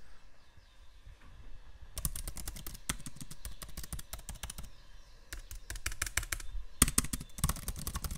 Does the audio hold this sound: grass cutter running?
no